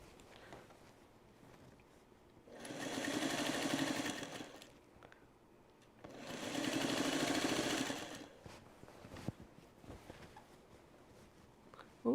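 A sewing machine stitches binding onto the Trellis Garden quilt in two steady runs of a few seconds each, with quiet handling sounds and pauses between.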